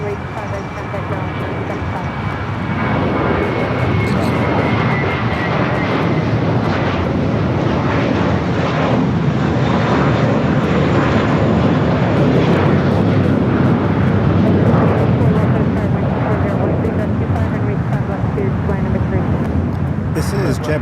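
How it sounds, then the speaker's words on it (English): A JetBlue Airbus A321 jet at Los Angeles International Airport gives off a loud, steady roar that swells slightly and holds throughout, with faint background noise beneath. "This is JetBlue 1488 going to Boston on an Airbus A321."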